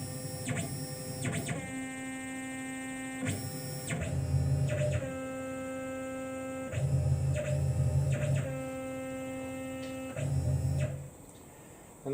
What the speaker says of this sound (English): I'm just going to probe using a probing routine to find the center on G54. Quite a slow probe at 800 millimeters a minute.